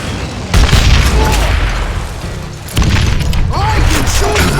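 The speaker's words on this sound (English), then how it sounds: "I can shoot too! Nice shot!" Heavy gunfire booms through a Call of Juarez Gunslinger boss fight, loud and continuous with two sharp onsets over a rumbling, dense game soundscape.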